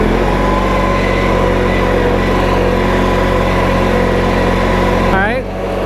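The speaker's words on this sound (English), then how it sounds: "I got the engine down low so you can hear us talk" An Allis Chalmers tractor at a show idles low with its hydrostatic drive in second forward, a steady loud rumbling drone throughout that dips briefly near the end.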